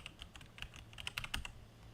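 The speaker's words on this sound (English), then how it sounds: "you can do a Control F on your keyboard, type up here whatever it is you're looking for" A computer keyboard is struck in a quick cluster of crisp, close key clicks typing a Control F shortcut, brief and sharp over a quiet background.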